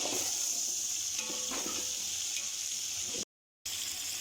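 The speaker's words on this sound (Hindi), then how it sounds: "इसको 2 मिनट के लिए इसमें घी के अंदर इसको अच्छे से ब्राउन होने के लिए छोड़ दूँगी" Chicken browning in hot ghee in a pan for chicken biryani, a steady close sizzle and crackle running throughout with a brief cut to silence near the end.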